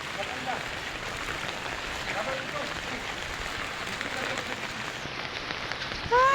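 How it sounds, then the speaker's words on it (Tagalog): Heavy rain in Gensan City falls as a steady, dense hiss and patter throughout, a continuous wash of drops on surfaces with no pauses. "Ay, paita, nag-ulan pagid."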